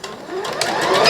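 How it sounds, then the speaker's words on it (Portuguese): A sewing machine runs fast while stitching through fabric, giving a brief, steady mechanical whir with rapid needle ticking that builds slightly in loudness. "Minha máquina tá bem rápida"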